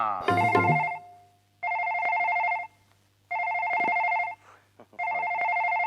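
A mobile phone ringtone plays in repeated electronic bursts, four tonal rings about a second long each with short gaps, close and steady, after a brief spoken moment at the start.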